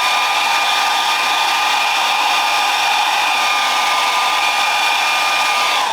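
A hair dryer blows hair upward while a textured quiff is styled on a hair system, giving a steady, loud, close whooshing roar that holds at the same pitch throughout with no speech.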